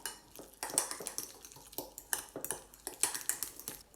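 Garlic pressed over mashed avocado with chopped parsley gets stirred in a bowl, with a series of close metallic clinks and scrapes of a utensil against the dish in an irregular rhythm.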